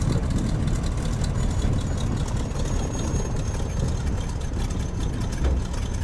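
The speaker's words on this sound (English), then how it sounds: "I really love those engine sounds." A steady, low engine drone idles continuously, a heavy rumbling hum with faint higher whine on top, no voices. It is the idling engine of a PT-17 Stearman biplane in Microsoft Flight Simulator.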